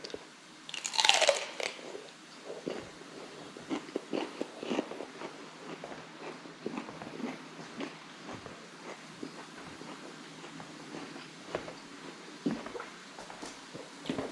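Celery sticks spread with peanut butter being eaten up close, with loud crisp crunchy bites at first, then steady chewing and smaller crunches continuing throughout, with no talking.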